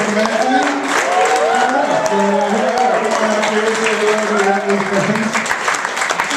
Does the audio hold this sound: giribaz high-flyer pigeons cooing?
no